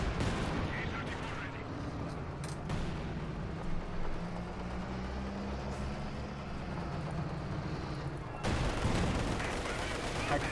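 Battle gunfire from the video game Company of Heroes 2 rumbles on continuously, a dense roar of shots and artillery blasts that swells in a final burst of loud firing.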